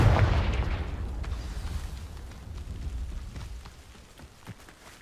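A Confringo fire spell explodes in the Hogwarts Legacy video game, a heavy booming blast at the start that rolls off into a long rumbling, crackling decay with a few small pops near the end.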